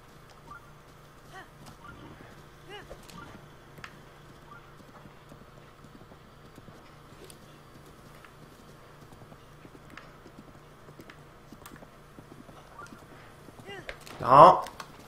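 Steady clip-clop of a horse's hooves at a walking pace in The Legend of Zelda: Breath of the Wild on Wii U, even and moderately close, with low game ambience beneath and a brief louder burst of sound right at the end.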